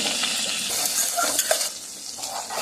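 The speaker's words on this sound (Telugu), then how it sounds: "ఇప్పుడు ఈ మిగిలిన బటర్లోకి ఎల్లిపాయలండి" Onions frying in leftover butter in a pan for a healthy soup, a bright close sizzle with a few clinks and scrapes of a utensil stirring.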